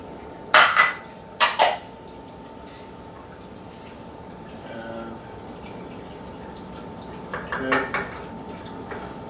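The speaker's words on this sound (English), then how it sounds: "you just keep stirring it" Spanish rice being stirred in a pot nearing a boil, giving a few sharp metallic scrapes and clinks of spoon against pot, close and in short bursts, with quieter simmering between.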